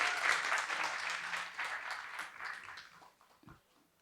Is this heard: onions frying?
no